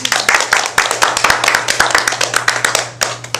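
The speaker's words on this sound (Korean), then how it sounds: "박수 한번 쳐주세요" A small group at a Korean Buddhist dharma meeting claps hands to welcome a first-time attendee, the sharp, uneven claps ringing close and distinct for a few seconds, with a steady low hum beneath.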